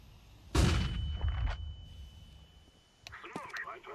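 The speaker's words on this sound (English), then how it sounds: "I'm throwing a flashbang." In Counter-Strike 2 a thrown flashbang goes off with a sudden loud burst and a long ringing tone after it, followed by sharper gunfire-like cracks near the end, with a player talking over the game.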